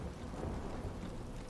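Rain and thunder spell effect in Divinity: Original Sin II, a brief steady wash of dense rainfall with low rumbling underneath, no voices.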